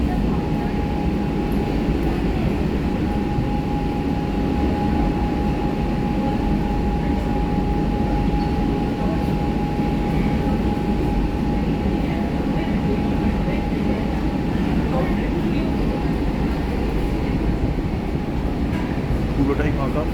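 An almost empty Kolkata metro train on the Behala–Joka line runs with a steady loud rumble and a sustained tonal whine, heard from inside the car throughout with a voice speaking over it.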